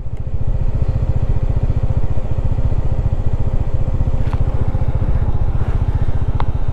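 A motorcycle engine running on a high mountain road in North Sikkim near Gurudongmar Lake, a close, steady low putter with rapid regular firing pulses throughout and a few faint clicks over it.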